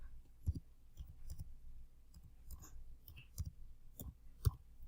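Keys on a computer keyboard tap out a password in an irregular series of soft, close clicks, a dozen or so scattered over a few quiet seconds.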